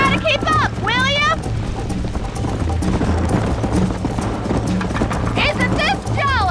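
Horse hooves clip-clop steadily at a gallop in the Western video game Red Dead Redemption, loud and continuous under game music, with brief whinnying neighs near the start and end.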